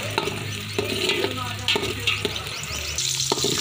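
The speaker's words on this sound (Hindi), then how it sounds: "अब इसमें प्याज डाल लिया है" Onion frying in a pan for okra and potato curry makes a busy, close sizzle with steady stirring scrapes and occasional clinks of the utensil against the pan.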